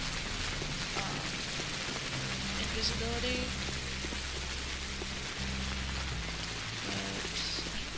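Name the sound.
rain falling in video game Pathologic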